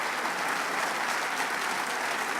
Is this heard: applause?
yes